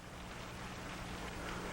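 Rain falls outside a house at night in the Old West, a faint steady hiss with no distinct drops standing out.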